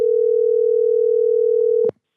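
A steady telephone dial tone drones loud and alone after a call disconnects, then cuts off abruptly with a click.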